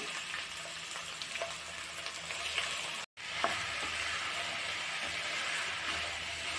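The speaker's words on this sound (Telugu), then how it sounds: "ఇప్పుడే మనం చిన్న చిన్న ముక్కలుగా కట్ చేసి పెట్టుకున్న దొండకాయలు అయితే ఇందులో యాడ్ చేసి ఇస్తున్నాం" Chopped ivy gourd (donda) pieces fry with garlic in a pan, giving a steady, close sizzle with faint stirring scrapes and a brief cut partway through.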